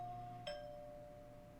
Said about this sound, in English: the unfamiliar sound is the apartment's doorbell